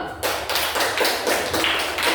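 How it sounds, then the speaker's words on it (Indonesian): A group of students claps together after a performance, producing loud, evenly spaced bursts roughly twice a second that run steadily throughout. "tepuk tangan dulu"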